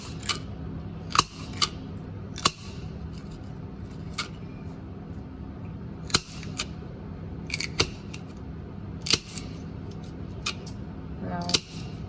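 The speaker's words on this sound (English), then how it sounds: "Cut the end off" Scissors snip through something in a kitchen, a string of sharp, separate cuts spaced a second or more apart over a steady low hum, no talking.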